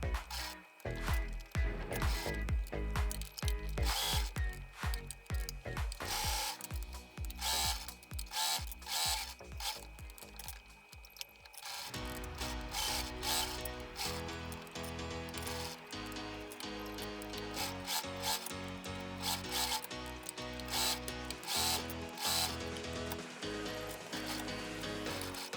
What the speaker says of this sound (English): Sew the bias tape to the sides of the sponge. Sew it slowly and neatly.